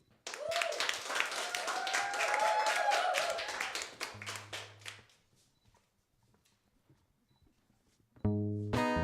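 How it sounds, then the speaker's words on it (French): An audience at an intimate live-session concert applauds a singer, loud dense clapping that fades out over several seconds before music begins at the end. "On l'applaudit."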